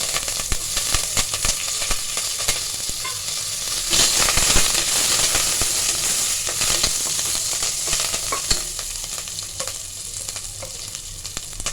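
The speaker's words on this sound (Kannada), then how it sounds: "ಈಗ ಇದು ಇದೆ ಈರುಳ್ಳಿ ಕರ್ಬೇವಿನ ಸೊಪ್ಪು ಮತ್ತು ಒಂದು ಎರಡು ಮೆಣಸಿನ್ಕಾಯಿ ಒಗ್ಗರಣೆಗೆ" Onion, curry leaves and green chillies sizzle steadily in hot oil for a South Indian tempering, a dense continuous frying crackle with small pops, close and loud throughout with no talk.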